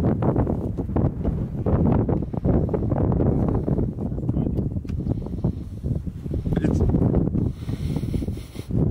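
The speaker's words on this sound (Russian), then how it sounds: "Немножечко ветрено." Strong gusty wind buffeting the microphone outdoors on the southern Ukrainian coast as a dark storm cloud approaches, loud continuous roaring rush with fluctuating gusts for the whole stretch.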